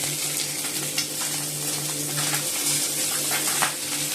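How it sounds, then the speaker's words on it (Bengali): Fish, including pabda, frying in hot oil in a home kitchen gives a steady, close sizzle with a faint crackle throughout and no voices. "মাছ এবার ভাজছি আর এদিকে পাবদা মাছও ভাজা হয়ে গেছে"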